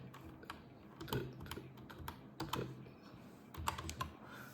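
Quiet, steady typing on a computer keyboard as a username is entered, with close, irregular key clicks throughout.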